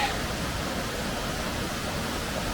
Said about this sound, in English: Looks like the water's flowing pretty good today.